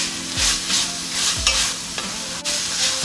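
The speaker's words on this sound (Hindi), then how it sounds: "अब इनको हम तेज़ आंच पे फ्राई करते हैं।" Carrot pieces sizzle and fry over high heat in a pan, with a steady crackling hiss broken by a few stirring scrapes, close and fairly loud.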